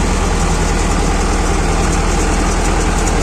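A YuMZ tractor engine runs steadily during soil cultivation, giving a loud, close, continuous diesel drone with a deep throbbing rumble and no pauses.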